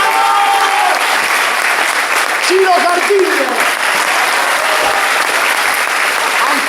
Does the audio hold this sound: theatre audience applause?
yes